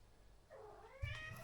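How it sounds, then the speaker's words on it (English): A house cat meowing to be let outside: one drawn-out, rising-then-falling meow followed by a brief, sharper second call, close by in a quiet indoor room. "That's Beard, my other cat, wanting to go out."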